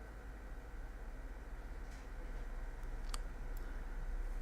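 A few soft, sharp computer mouse clicks while editing text in Photoshop, spaced apart over a steady low hiss with no voices.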